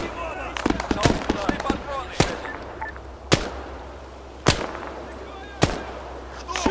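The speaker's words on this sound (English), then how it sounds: "Artillery strike." Artillery salvo rounds explode in a war strategy video game: a cluster of quick cracks, then four heavy, well-spaced booms about a second apart, with a voice speaking between the blasts.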